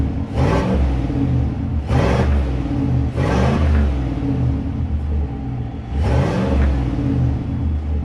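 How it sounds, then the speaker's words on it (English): A 2019 Chevrolet Silverado Trail Boss with dual exhaust revs four times, each loud, throaty burst rising and falling back to a deep, rumbling idle that carries between the pulls. "Let's hear a couple of revs."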